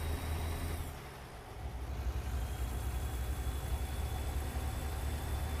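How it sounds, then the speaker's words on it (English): Truck engine in a driving video game, heard from an outside camera view: a steady low diesel-like rumble and drone that dips briefly near the start, then holds loud and constant, with no talk. "let's hear the engine much more clearly."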